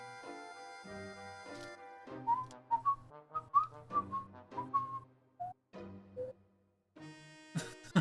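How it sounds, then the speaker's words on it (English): A person whistles a low, wandering tune in a series of short, separate phrases, heard close and clear over steady background music. "Lowest I can whistle."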